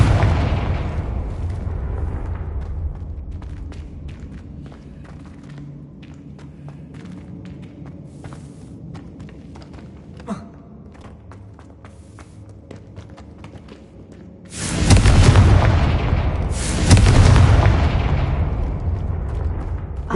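Confringo fire spell blasts in Hogwarts Legacy, two loud booming bursts arriving late after a stretch of quieter footsteps and ambient rumble.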